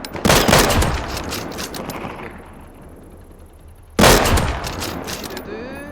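Gunfire in the survival shooter game Deadside, loud close bursts of automatic fire that stop and then return with a sharp volley, ringing out with a trailing echo.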